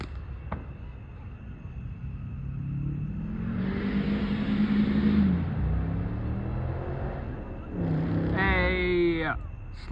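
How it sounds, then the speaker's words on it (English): A car speeding along a driveway during a Fourth of July fireworks evening, its engine rumble rising and falling as it passes close by, followed by a second surge of engine noise with some faint background voices. "That bozo is speeding on the driveway."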